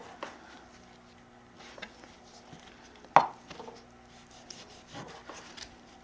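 A kitchen knife slices pork neck into thick pieces on a cutting board for kimchi stew, with sparse, quiet cuts and one sharper knock against the board amid soft handling sounds.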